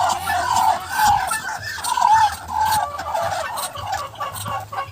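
Muscovy ducks in a farmyard, repeated soft hissing and breathy gobbling calls close by, overlapping in short bursts with a few low thumps and light background noise.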